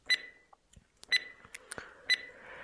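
A treatment timer beeps three times at steady one-second intervals, each a sharp, close electronic tone, with faint clicks and rustling in between.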